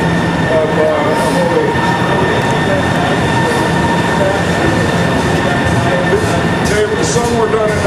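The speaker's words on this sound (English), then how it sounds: "Here comes another train if you're interested." A DSTT joint-operations train rolls past close by, a loud steady rumble of rail wheels and carriages with faint squeal tones lasting throughout, no speech over it.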